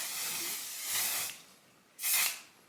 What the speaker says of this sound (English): you can go in with a little bit of the On Till Dawn setting spray from One Size